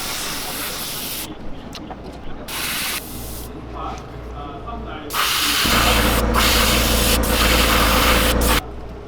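Hissing bursts of an airbrush spraying red oxide paint through a stencil onto a fishing lure, several short puffs followed by a longer, louder continuous spray, close up, with a compressor humming underneath.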